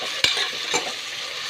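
Onions and green chillies sizzle steadily in hot oil for quail biryani, with two sharp stirring scrapes cutting through the constant frying hiss, close and fairly loud.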